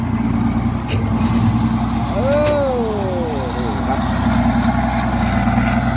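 A Mitsubishi ten-wheeler truck's turbocharged engine runs at a steady, loud idle close by, with a brief rising whine partway through and someone talking over the rumble.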